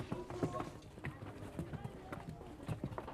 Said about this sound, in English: The streets bustle with donkey traffic.